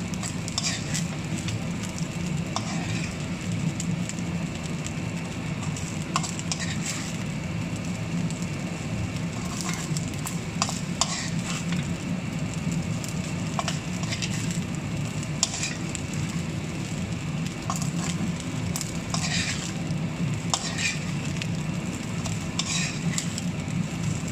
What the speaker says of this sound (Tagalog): patuloy natin sa paghalo para hindi didikit